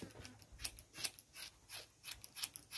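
Grooming scissors trim an animal's coat between its ears, a quick series of about a dozen crisp, close snips in an uneven rhythm, quiet and heard alone.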